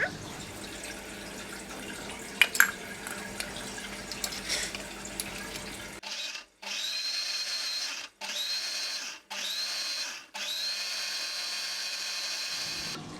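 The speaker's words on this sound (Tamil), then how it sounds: "இப்போ இதை நம்ம அரைச்சிக்கலாம்." A mixer grinder whirs loudly in several bursts, grinding soy fish sambal ingredients with water, starting and stopping with short pauses between runs, after a stretch of quieter clattering.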